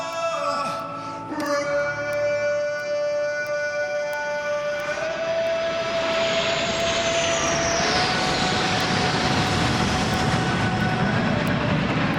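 Thunderbirds jets pass over the Indianapolis Motor Speedway before the Indy 500, a steady roaring rush that swells and sweeps through over about twelve seconds, heard alone after a sustained tone.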